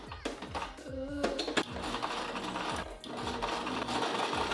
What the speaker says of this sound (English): So I'm gonna just sew these up and see if they actually look like scrunchies.